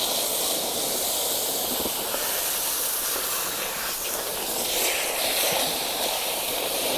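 Steady hissing spray of water rinsing caked debris off the grids of a Pentair DE pool filter, a continuous close rush with no pauses.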